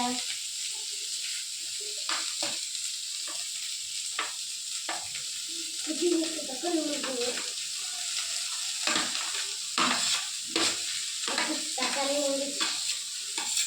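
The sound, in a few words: sautéing food in oil in a pan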